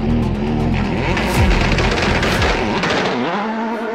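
Number 32 2008 Subaru Impreza race car drifting through snow: a loud, strained engine roar with rising and falling revs, rough booms and shifting pitch as the car slides, ending abruptly.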